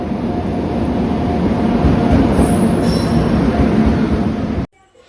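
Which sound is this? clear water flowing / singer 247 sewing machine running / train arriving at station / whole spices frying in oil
train arriving at station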